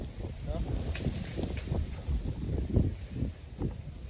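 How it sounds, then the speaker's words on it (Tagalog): Strong wind buffets the microphone in low, uneven gusts in a forest while a voice speaks over it. "Sobrang lakas ng hangin."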